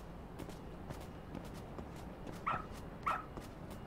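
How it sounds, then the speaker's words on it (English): A dog in the detective game Lost Judgment makes soft, faint rustling sniffs over steady background ambience, followed by two short, sharp barks near the end. "Good dog. Very good dog."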